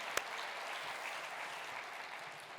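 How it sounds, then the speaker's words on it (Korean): A church congregation at a joint evangelism worship service claps steadily, a full room of even applause heard at moderate distance, with one sharp knock near the start and no talking. "박수를 한번 보내드려요"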